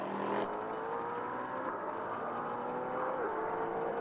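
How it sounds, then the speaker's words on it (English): Race car at the Aragón circuit approaching the hairpin during a winter series race, a steady engine whine with rising and falling pitch under continuous track noise, no talk. "We await a car coming into view at the hairpin. We can hear it"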